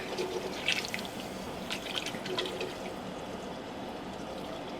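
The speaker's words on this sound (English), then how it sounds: "Pour enough in it just to kind of thin it out" Liquid poured into a pot of mac and cheese sauce to thin it, a soft trickling splash with a few drips, fairly quiet and close against a faint background hiss.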